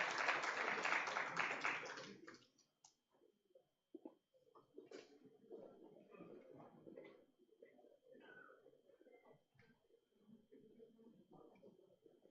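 Applause from an audience welcoming a panel at an entrepreneurship day event: a dense, loud burst of clapping for about two seconds that quickly dies away, then a voice starts speaking.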